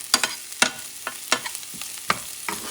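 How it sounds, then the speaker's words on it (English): Chopped garlic frying in a pan for Puerto Rican arroz con carne molida, stirred in sharp scraping strokes roughly every half second over a soft sizzle, close and alone with no voices. "But you don't want the garlic to burn, so you're going to mix this up for a few seconds"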